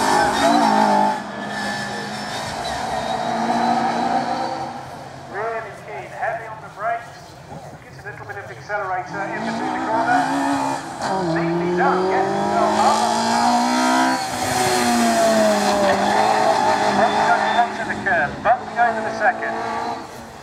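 Vauxhall Nova sprint car lapping the Curborough circuit, its engine rising and falling through corners and hairpins, with occasional tyre squeal, heard under continuous commentary.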